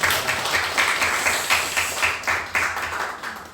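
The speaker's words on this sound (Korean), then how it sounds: "우리 박수로 우리 좀 환영할까요?" A church congregation claps to welcome visitors, a steady run of hand claps from a modest crowd at moderate distance, with a faint murmur beneath.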